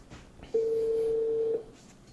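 A single steady electronic ringback tone from a phone call sounds for about a second through a HomePod Mini smart speaker, with faint room noise before and after.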